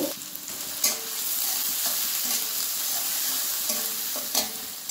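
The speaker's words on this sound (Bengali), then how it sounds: "পেঁয়াজটাকে আমি নেড়ে চেড়ে হালকা ব্রাউন কালার করে ভেজে নেব।" Chopped onions with bay leaf fry in hot oil under a constant moderate sizzle, with a few crisp stirring scrapes at intervals.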